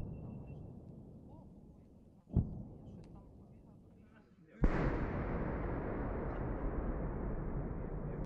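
Two heavy booming blasts from a Grad multiple rocket launcher split the clip, the second launching into a sustained loud roar that persists to the end, over a rumbling background; rocket salvo fire at the front line.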